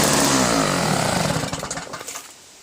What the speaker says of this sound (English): I just pulled it one start and started.